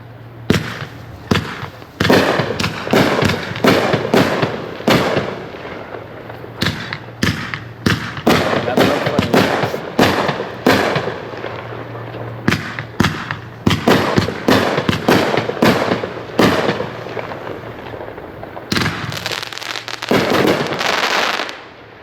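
An 18-shot, 500 gram consumer fireworks cake goes off in a rapid sequence of loud thumping launches and bursts, volleys stacking up with brief pauses, then a final cluster of shots before it falls quiet.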